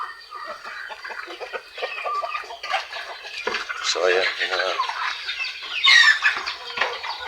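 Chickens cluck and squawk in scattered bursts nearby, with a brief spoken phrase and some clinking in the background.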